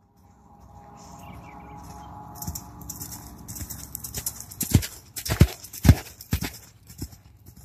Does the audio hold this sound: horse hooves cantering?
yes